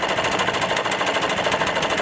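A Stihl BR 600 Magnum backpack blower engine runs on choke, a fast, rough two-stroke putter that stays loud and close with a steady rapid beat throughout.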